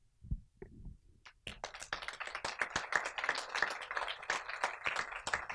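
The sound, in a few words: audience clapping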